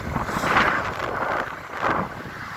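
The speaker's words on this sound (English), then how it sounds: "Even though it is windy as hell, not to mention cold." Broadband rushing wind buffets the microphone outdoors on a cold day, steady and loud with a couple of stronger gusts, no voices.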